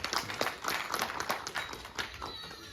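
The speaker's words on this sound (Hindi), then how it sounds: "जोरदार तालियों से स्वागत" An audience claps to welcome a speaker at a book release event, a short burst of scattered, moderately loud applause.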